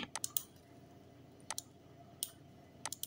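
Sharp computer mouse clicks on a Windows PC, scattered singly and in quick pairs over a quiet background, close and fairly crisp.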